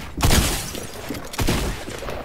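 Gunfire in an arena shooter video game: two loud, sharp shot bursts with crackling, shattering tails, the first just after the start and the second about a second later, close and with no talk.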